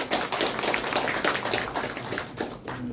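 Audience clapping at the opening of a calligraphy exhibition at an art museum in Insadong, Seoul, a dense burst of applause filling the room steadily for a few seconds before tapering near the end.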